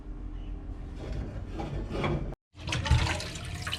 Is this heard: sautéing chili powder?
no